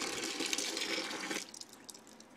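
Dissolved homemade laundry soap poured from a pan into a bucket a quarter full of water: a steady close splashing gush for over a second, then scattered drips and trickles.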